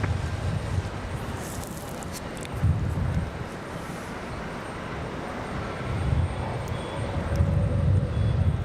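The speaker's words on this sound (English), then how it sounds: "Cessna taking off over there" A small Cessna light aircraft taking off at Raleigh Durham airport produces a distant, steady engine drone mixed with wind-like rumble and low swells, with no talking.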